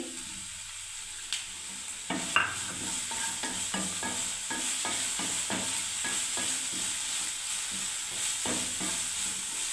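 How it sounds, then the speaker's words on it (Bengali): Ginger paste frying in a pan, a steady close sizzle running throughout with scattered sharper stirring and scraping clicks, no voices. "দেখুন আদা বাটাটা দিয়ে দিচ্ছি আমি"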